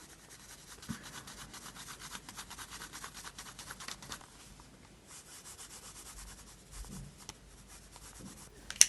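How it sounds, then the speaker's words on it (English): Pencil crayons colouring on a paper journal page, a soft steady scratchy rubbing that runs continuously at close range with small shifts in stroke rhythm, quiet and alone. "I'm going to go in with some pencil crayons."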